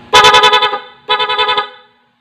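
Two loud, close car horn blasts, a stock horn and an added loud horn sounding together through an interrupter relay, each a harsh pulsing honk, with a short gap between.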